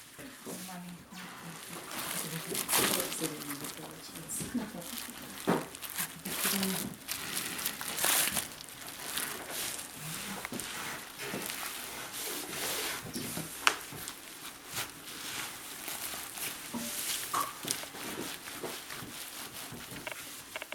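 Wool is felted by hand, rubbed inside a towel, producing continuous soft rustling and crinkling friction close by, while someone talks throughout.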